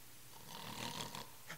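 Preacher mimicking a snore with his voice, one drawn-out rasping breath followed by a short snort, fairly faint and without words.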